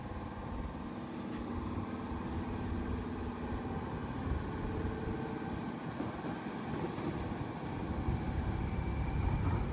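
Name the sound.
Sydney Trains T68 Tangara train departing Allawah station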